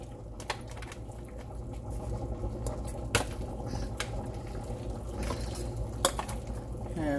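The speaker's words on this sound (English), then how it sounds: "So let's go with half of this mixture in my baking pan." Thick batter pours into a baking pan with soft, wet glugging and patter over a low background, and a few sharp clicks stand out along the way.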